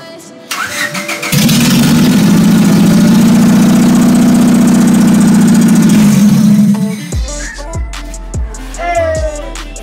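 A Honda car engine cranks briefly, catches and roars loudly for several seconds on a first start with the fuse box disconnected, then cuts off, followed by a few clunks and faint mechanical noises.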